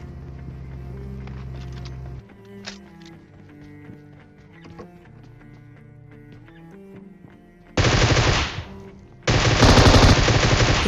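Groza rifle fire in the PUBG Mobile video game comes in two long, loud, dense automatic bursts near the end, after a stretch of quieter game tones and clatter, with no talking.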